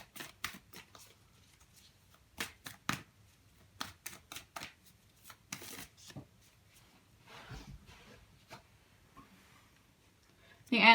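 Moonology oracle cards are shuffled by hand: brief soft riffles and slaps come in scattered clusters with pauses between them, close and quiet, with a low background murmur.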